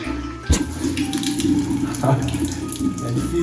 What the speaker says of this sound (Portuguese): Essa torneira também é triste.